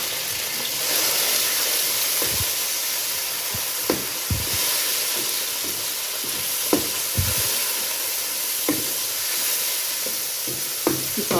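Finely chopped tomatoes and green chillies hit a hot frying pan of ghiya and tori bhujiya, giving a steady close sizzle with scattered sharp clinks and scrapes of stirring throughout.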